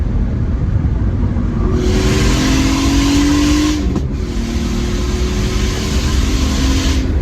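A turbocharged BMW M54 inline-six car revs hard and accelerates, loud and close, its engine note climbing steadily through the gears with a short dip at a shift midway.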